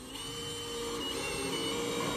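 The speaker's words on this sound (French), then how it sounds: "avec une visseuse avec un embout torse, on va donc visser dans la matière" A cordless screwdriver with a Torx bit drives a screw into the panel of a five-seat Mouv'Spa Prestige hot tub, a steady continuous motor whine that builds slightly in loudness, heard up close with no talking.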